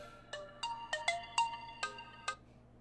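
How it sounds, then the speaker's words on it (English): Phone alarm ringtone going off, a short bright melodic run of about eight chiming notes in an uneven rhythm, fairly faint with a low hum underneath, then stopping. "Oh, that's my alarm, guys."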